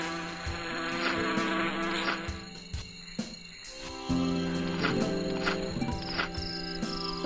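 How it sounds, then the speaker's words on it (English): Bees in the spider video game Arachnophilia buzz steadily and close, a dense droning hum of several insects running throughout with layered game tones beneath. "Go away, bees."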